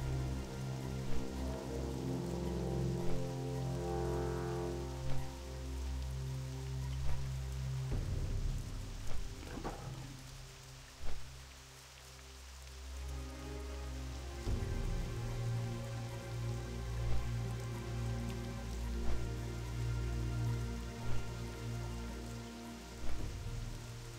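In-game rain in World of Warcraft: The Burning Crusade Classic patters steadily for the whole stretch, a soft continuous wash mixed under sustained background game music with shifting tones.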